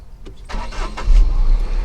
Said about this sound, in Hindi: ये हमने क्रैंकिंग कर ली कार की